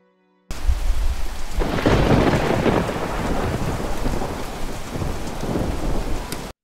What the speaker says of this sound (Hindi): इतनी जोर से बारिश हुई कि सारी लकड़ी भीग गई